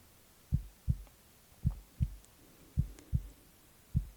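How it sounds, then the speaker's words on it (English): Slow, steady heartbeat heard up close against a listener's chest during a sleepy cuddle, seven deep, soft thumps with a lub-dub pulse, loud and alone with no talking. "I'm going to turn your head a little bit so you can hear my heartbeat."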